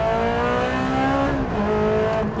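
A Ferrari 360 Challenge Stradale accelerating at full throttle in first gear on a damp winter road: a loud, close engine note rising steadily in pitch, a brief dip, then climbing again, with no talk over it.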